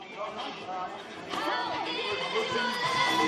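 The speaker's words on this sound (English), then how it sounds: "Crowd getting very noisy here at headquarters on Sunday night football" Noisy crowd at a Sunday night local football match between Harrington United and Mount Annan, a steady wash of chatter and shouting that swells louder partway through, heard up close with a voice speaking over it.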